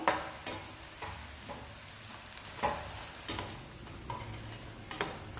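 Pakoda made with moringa leaves and ragi flour fries in hot oil on low heat, a steady close sizzle with soft periodic stirring scrapes and clicks.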